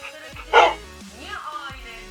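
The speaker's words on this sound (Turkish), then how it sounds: "köpeğimizi de şöyle evcilleştireyim." A tamed dog in Minecraft gives a short bark and a few whimpering yips, close and fairly loud, amid game sounds.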